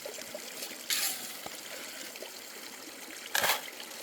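Water trickles steadily through a gold sluice, a soft continuous flow with two brief louder splashy gushes partway through, close by and otherwise fairly quiet.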